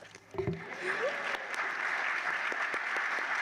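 An audience claps at a graduation ceremony, the applause starting a little ragged and swelling into a steady, moderately loud patter, with a brief voice and a few sharp knocks near the start.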